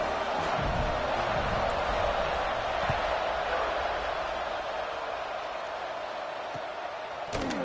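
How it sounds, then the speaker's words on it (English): A stadium crowd in a football video game gives off a dense, continuous roar. The buzzing holds loud and steady throughout with little variation. "This crowd is buzzing after that last score."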